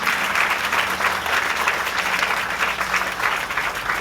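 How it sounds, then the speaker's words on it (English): Audience applause fills the room at the opening ceremony for a West Virginia airport extension, a steady dense clapping that holds at an even loudness for about four seconds with no voices over it. "they deserve another round of applause for doing such a great job"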